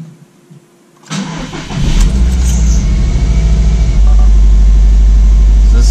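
A Subaru WRX STi with a check engine light and secondary air combination valve electrical trouble cranks and fires up, then settles into a loud, steady idle heard up close, with no talk.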